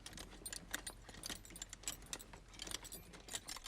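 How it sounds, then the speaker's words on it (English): Foley jangling of a horse's reins: bright metallic jingles and clinks in quick irregular bursts, close and fairly quiet, with no voices. "or the sound of a horse's reins."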